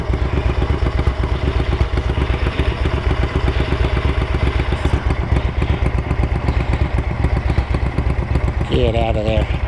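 A Ducati 900SS bevel-drive motorcycle engine idles close by after a carburetor sync, its steady lumpy pulse continuous throughout, with a brief voice near the end.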